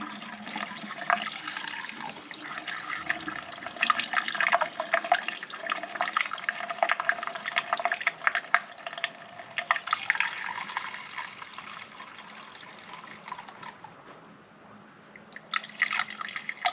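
Liquid glugging and splashing as it pours from a one-gallon jug during a Fox Body clutch fan and shroud install, a steady close trickle with bubbling that eases near the end.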